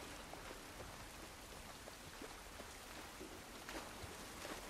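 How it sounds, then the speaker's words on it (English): Steady rain falls in the hometown level of The Last of Us video game, with faint patters of raindrops on surfaces forming a constant soft hiss without any voices. "This rain ain't gonna do us any good."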